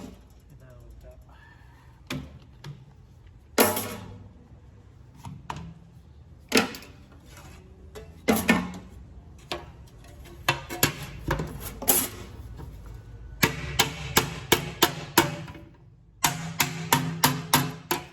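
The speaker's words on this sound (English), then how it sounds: "Then you can go to your normal hammer." A normal hammer strikes sheet metal to bend the wings of a river sluice, sharp metallic clanks coming close and irregular, then speeding into rapid bursts of repeated blows over low background noise.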